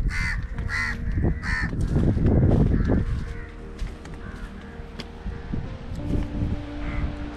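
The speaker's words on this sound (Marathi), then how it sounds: "त्यामुळे कावळ्या पण खूप आहेत" Crows caw repeatedly at a seaside fort planted with jujube trees, several loud harsh calls in quick succession near the start, then scattered fainter caws with light wind noise and no talk.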